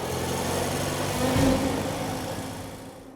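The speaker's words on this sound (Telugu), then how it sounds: "ఆ హెలికాప్టర్ శబ్దం ఎక్కడి నుంచి వస్తోందబ్బా?" A cartoon helicopter hovers with a steady engine drone and whirring rotor, swelling slightly louder midway before easing off, heard alone.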